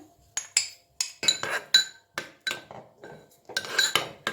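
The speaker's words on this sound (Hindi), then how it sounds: "अब हम दही में सारे मसाले मिक्स करेंगे।" A spoon clinks sharply and steadily against a bowl as salt, red chili and whole cumin are stirred into yogurt. The clinks come in a quick run, close and clear, with no voices.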